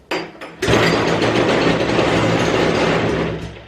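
A vintage Arctic Cat Kitty Kat snowmobile's small engine sputters briefly, then catches and runs with a loud, steady mechanical clatter before trailing off at the end.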